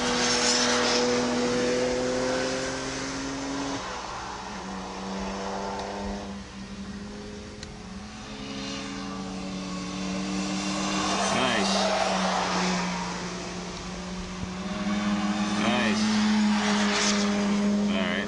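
Subaru Legacy driven on the Bridgehampton race track during a high-performance driving session: an engine drones and rises and falls through the gears, steady and prominent from inside the car, with someone talking over it.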